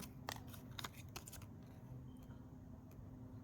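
Scissors snip through paper in a quick cluster of sharp cuts early on, then a few lighter isolated snips follow, close and quiet, with no voices present.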